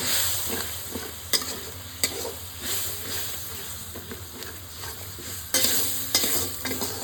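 Soft sizzling in a pan with intermittent clicks and scrapes of a spoon stirring, fairly quiet and close.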